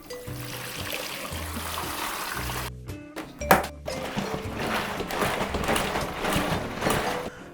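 Fresh bucket of water poured into a Yirego foot-powered laundry machine, a splashing, gushing pour that pauses briefly, then resumes as a steady rushing stream.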